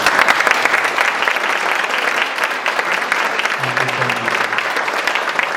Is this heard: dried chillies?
no